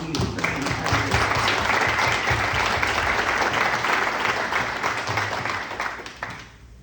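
Audience at a family foundation anniversary presentation breaks into sustained applause, full and steady, tapering off in the final second.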